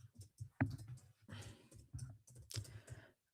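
Keys clatter on a computer keyboard in quick irregular bursts with short pauses, close and fairly quiet, with no voices over them.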